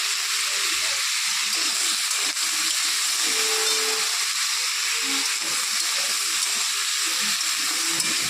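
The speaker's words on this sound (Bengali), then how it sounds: "মাছ ভাজার ওই তেলের মধ্যে সজনে বাটা আলুগুলোকে একটু ভেজে নেব নুন হলুদ দিয়ে" Potatoes coated in ground drumstick, with salt and turmeric, fry in oil left from frying fish, giving a steady broadband sizzle that holds at an even level throughout with no talk.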